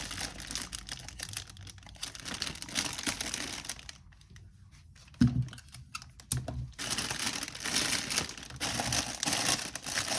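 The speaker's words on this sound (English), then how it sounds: "you do have to be very careful when you're cutting this, because sometimes it will cut and pull and you're taking off more wrap than you need" Cellophane wrap being cut for a lavender holiday gift basket gives a close, continuous crinkling and rustling with snipping clicks, easing off briefly in the middle before resuming.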